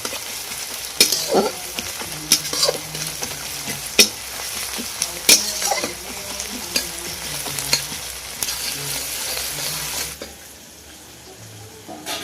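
Onions frying in a pan for a chicken and potato curry, a steady broadband sizzle broken by repeated sharp scrapes and clinks of a spatula stirring, fading quieter near the end.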